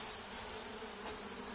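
Buckfast honey bees swarming during a honey harvest at the hives, a dense continuous buzz filling the air, steady and close with no voices.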